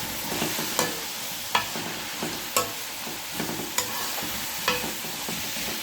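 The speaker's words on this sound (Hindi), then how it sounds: "स्पाइसेस डालने के बाद 2 मिनट तक हम इनको फ्राई करेंगे" Vegetables fry with curry powder, salt and red chili for vegetable fried rice, a soft sizzle broken by regular spoon scrapes and clacks against the pan about once a second.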